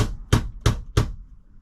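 Three sharp, evenly spaced taps ring out as a shower head insert is knocked into place, each a crisp, close hit with a short decay, followed by quiet.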